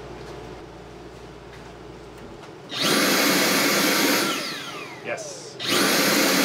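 A Dyson Airblade hand dryer, AB-14 or AB-02, is plugged in after a nozzle repair and starts up with a loud, steady high-pitched rushing whine. The sound dips briefly and then surges again, and a voice speaks a single word before it starts.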